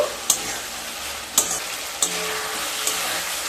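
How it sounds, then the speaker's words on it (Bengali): Rui fish curry with pointed gourd sautéing in a pan over a steady frying sizzle, punctuated by four sharp spatula clacks against the pan at irregular intervals. "আর পটল দিয়ে আবারও এক থেকে দেড় মিনিট লো টু মিডিয়াম স্টিমে খুব ভালো মতো কষিয়ে নেব"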